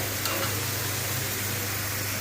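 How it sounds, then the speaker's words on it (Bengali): Chicken meat frying and being stirred in oil in a home kitchen, a steady close sizzle with a low hum underneath and no talking. "এই মুরগির মাংসটা একটু ভাজার মতো এখন কষাই নিব ভালো করে"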